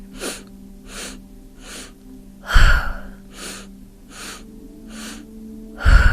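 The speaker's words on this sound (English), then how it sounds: "So 3 sniffs in, up, out, up, and down." Rapid triple sniffing inhalations of a Breath of Joy breathing exercise repeat in a steady rhythm, close and breathy, punctuated by two forceful whooshing exhales as arms swing down.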